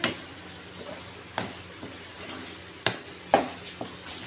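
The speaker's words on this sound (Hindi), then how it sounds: "यहाँ पे डालने के बाद हम इसको अच्छे से मिक्स कर लेते हैं।" Daal mash lentils being stirred in a pot, with a few soft scraping knocks of the spoon over a low sizzling background, close and quiet.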